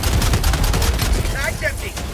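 Dense, rapid gunfire from a Helldivers 2 squad firefight, a loud continuous barrage of overlapping shots with a few chirping electronic tones near the end.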